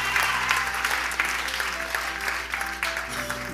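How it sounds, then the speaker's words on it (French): A church congregation claps together in a steady, dense burst of applause that fills the room, with faint voices mixed underneath. "Clap for Jesus"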